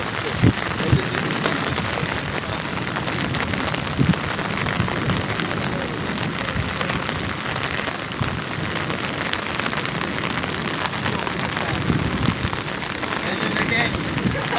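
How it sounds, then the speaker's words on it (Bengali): Heavy rain falls in a steady, dense roar on surfaces nearby, loud and unbroken throughout, with a few sharper drop impacts and no voices. "প্রচুর বৃষ্টি হচ্ছে।"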